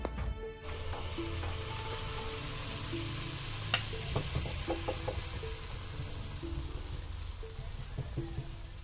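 Sweetened pitha batter cooks in a hot pan, a continuous, even sizzle with light crackles and pops over a faint background hum.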